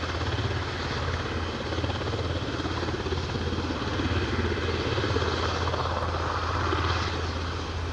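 A Loganair ATR 42-500 turboprop on final approach at Aberdeen airport drones continuously with a low, pulsing propeller hum, steady and moderately loud, with no voices.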